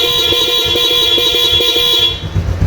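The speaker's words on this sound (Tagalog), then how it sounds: "tapos busina tayo mga sir" A steady, loud motorcycle horn blares continuously for about two seconds, then cuts off, leaving a low engine rumble.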